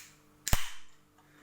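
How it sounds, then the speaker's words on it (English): A can of Raze grape energy drink cracks open, one sharp metallic snap followed by a brief fizzing hiss of released pressure, close and alone. "Let's see how much pressure we have inside the can."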